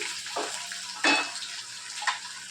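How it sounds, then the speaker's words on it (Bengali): Potato pieces frying in a pan, a soft continuous sizzle broken by a few scraping stirs and clinks of a spatula against the pan, close and moderately quiet. "দেখুন আলুটা একটু ভাজা ভাজা মতন হয়ে গেছে।"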